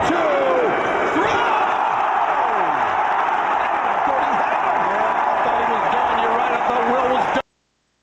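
A large wrestling crowd roars in a sustained pop after Ospreay kicks out at a live pro wrestling event, a loud, continuous wall of cheering that cuts off abruptly.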